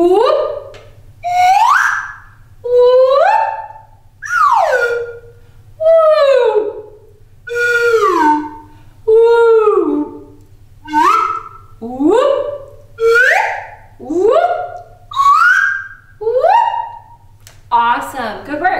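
A voice imitates a slide whistle, gliding up high and swooping down low in about a dozen repeated sweeps with short gaps, loud and close over a faint low hum.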